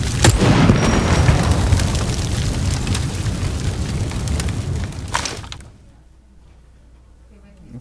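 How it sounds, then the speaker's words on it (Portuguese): A Molotov grenade going off in an online shooter game: a loud, sustained burst of roaring, crackling noise for about five seconds that cuts off abruptly, leaving near silence. "Vou matar ele na granada de molotov agora."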